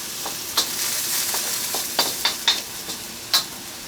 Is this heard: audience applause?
no